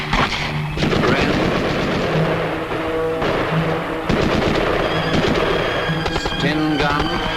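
Bren light machine guns firing in Royal Air Force Regiment weapon training during 1943-44, dense repeated bursts of sharp gunfire, loud and rattling, mixed with booming reports and continuing throughout.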